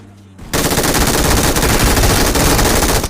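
MG3 machine gun firing in the mobile game BGMI, a sustained rapid burst of loud, densely packed shots lasting nearly three seconds after a brief quieter moment.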